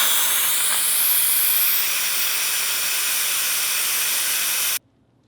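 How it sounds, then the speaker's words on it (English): An Instant Pot vents its pressure in a quick release: a loud, steady hiss of escaping steam runs for almost five seconds, then cuts off abruptly into silence. "then we're going to quick release the pressure"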